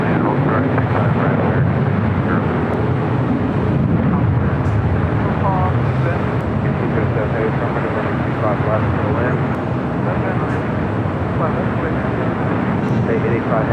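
A Cathay Pacific airliner in oneworld livery at LAX airport, producing a steady, loud engine roar that stays constant throughout, with no speech over it.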